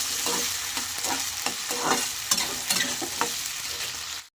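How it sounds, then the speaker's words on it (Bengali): Potatoes fry in hot oil with a steady sizzle, punctuated by repeated scraping clicks of a spatula stirring against the pan, close and continuous without any talking. "আলুগুলো ভাজা হয়ে গেছে এবার আমি এগুলোকে তুলে নেব"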